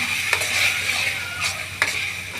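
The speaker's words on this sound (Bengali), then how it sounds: "এখন দিয়ে দেবো মরিচের গুঁড়া, নাড়া দিয়ে দিলাম" Chili powder being stirred into spices frying in a pan: a loud, close sizzle with a few quick scraping strokes of a spoon, and no talking.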